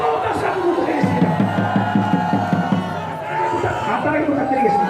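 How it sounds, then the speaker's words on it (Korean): A crowd at a Taegukgi rally in Jinju cheers and calls out, a loud, sustained mass of voices with some tonal chanting, with no clear clapping standing out. "뜨거운 박수 한번 부탁드리겠습니다."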